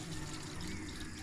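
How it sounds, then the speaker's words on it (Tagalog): Water running steadily into a kitchen vessel during a cooking show, a soft continuous pouring wash with no talk over it. "Tunog pa lang ng tubig."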